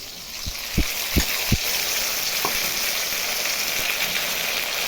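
Spice paste of ginger, cumin and chili sizzles steadily in hot oil while fish curry cooks, a continuous close hiss with a few low thumps of stirring near the start.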